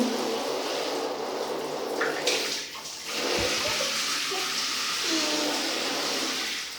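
Steady rushing of water running into a tub, a continuous wash of splashing noise with a brief clunk partway through.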